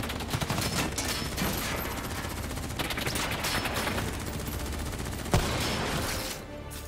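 Sustained gunfire rattles throughout a Call of Duty: Black Ops 3 firefight, dense bursts of shots overlapping, with one sharp loud crack near the end before the firing thins out.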